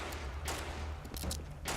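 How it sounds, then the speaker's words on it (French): Scoped weapon fire in the Fortnite video game comes as several quick, fairly faint bursts of shots spread across a short stretch of quiet game sound. "Ah, ça tire à la scope là."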